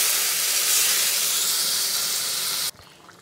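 Water poured into a hot pan of pointed gourd gives a loud, steady steaming hiss for almost three seconds before cutting off abruptly to quiet.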